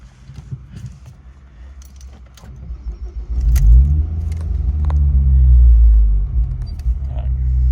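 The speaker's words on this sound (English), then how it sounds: "I'm going to turn it on again and leave it idle" A Ford Focus ST225 with an ABS fault cranks and fires up about midway, after faint key and handling noises, then settles into a steady, close, low idle rumble.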